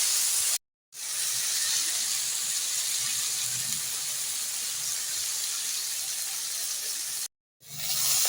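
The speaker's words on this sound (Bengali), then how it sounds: "সেই জলটা একটু হালকা করে জল অ্যাড করলাম।" Water steadily poured into a pan of ground spice mixture with salt, chili powder and a little sugar while cooking, a continuous close hiss broken by two short silent gaps.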